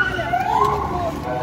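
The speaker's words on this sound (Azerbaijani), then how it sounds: "Polis maşını" A police car siren wails in a rising and falling tone during an anti-government street protest in Baku, Azerbaijan, fairly near and under a murmur of crowd voices.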